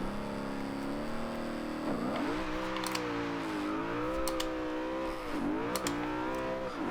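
Koenigsegg Agera 2011 hypercar in the racing game Forza Horizon 2, engine note climbing through the revs in steady pulls, dropping briefly at a gear change and rising again, loud and continuous with no voices.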